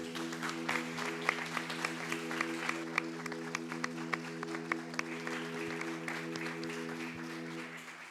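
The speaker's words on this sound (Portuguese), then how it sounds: "Você pode aplaudir o Senhor?" A church congregation applauds during a worship service, clapping faintly and at a distance beneath a sustained organ or keyboard chord. Scattered sharp claps stand out over the steady hum.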